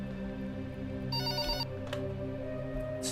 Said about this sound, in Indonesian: Telepon lagi.